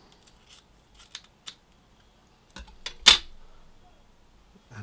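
Scissors snip through tape on a straight razor during honing, giving a few sharp, close cuts with one loud snip standing out among softer clicks in a quiet room.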